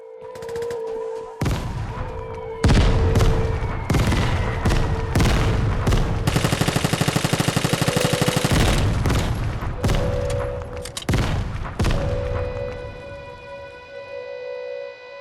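Video game gunfire: dense, loud bursts of rapid shots in several clusters, cutting in and out over tonal game sounds and music, with no talk.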